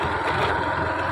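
Motorbike engine running steadily at close range, a dense continuous rumble with no breaks and no talk over it.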